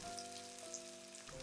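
A chicken and cabbage fritter fries in an oiled pan, a quiet, steady sizzle with faint crackling pops over a low hum.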